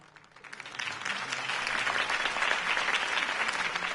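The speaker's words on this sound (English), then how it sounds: "could have heard that applause" A crowd in the Batman Telltale Series video game breaks into applause that swells quickly and then holds as steady, dense clapping.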